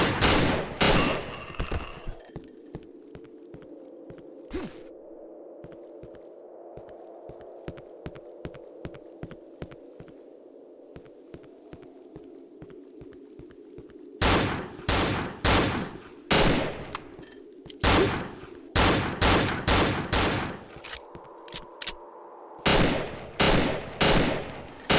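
Gunfire in the horror video game Cry of Fear, sharp loud shots in scattered clusters and rapid bursts, broken by a long quieter stretch of faint clicks and a steady high whine, with no speech.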